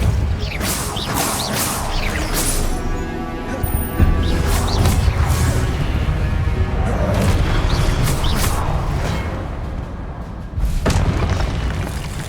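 A Depulso force spell cast in Hogwarts Legacy, heard as loud booming impacts and whooshing bursts over a dense rumbling bed of game effects, with a sharp new crash near the end.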